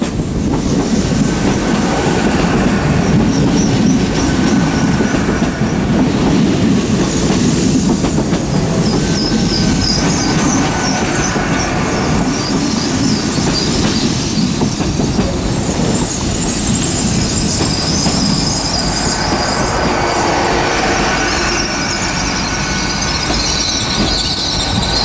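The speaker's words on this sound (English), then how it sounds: "approaching in now is going to be a terminating Great Western Railway service from London Paddington." A Great Western Railway Class 802 train from London Paddington pulls into Plymouth station, with loud, continuous rumbling and squealing wheels, rhythmic clickety-clack and rail noise sustained throughout, close by.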